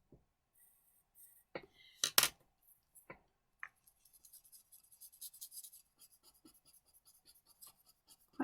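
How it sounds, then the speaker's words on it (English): A pen scratches and shades across paper while drawing a tangle pattern, with sharp scrapes early on and then a run of quick, light, brushing strokes, close and fairly quiet. "I'm going to apologise for the sound of this on the paper."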